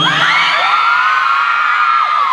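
A crowd at a Toyota event stage show in Thailand screams and cheers loudly and continuously, with high shrill whoops rising and falling throughout.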